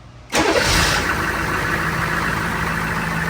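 A Humvee H1 engine cranks and catches with a sudden loud start, then settles into a steady, rumbling idle that continues to the end.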